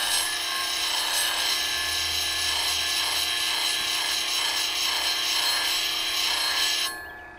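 Woodturning tools are sharpened against a grinder, giving a steady, loud abrasive rasp that holds evenly for several seconds before cutting off near the end.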